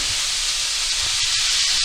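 Meat for goulash sears on high heat, a loud, dense, continuous sizzling hiss close up with faint crackles and no talking.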